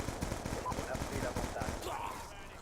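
Rapid gunfire from a Thompson submachine gun in the video game Black Ops 2, sustained bursts of shots over steady game sound, loud and close, tapering off toward the end.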